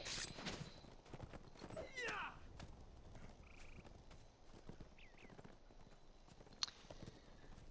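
Horse hooves clip-clopping as a rider enters an orc-overrun fortress landscape in the LOTRO game, set in Helm's Deep, with faint, irregular hoofbeats under a busy game ambience of calls and distant noises.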